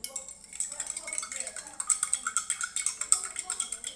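A spoon stirs sugar into a glass of water, giving a steady run of light, rhythmic clinks against the glass that start after a quiet half second and continue evenly at moderate loudness.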